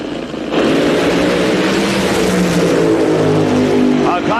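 Top fuel dragsters launch at the 1982 NHRA NorthStar Nationals, one car smoking its tyres, with a thunderous roar that bursts in after a brief quiet and holds loud under an announcer's voice.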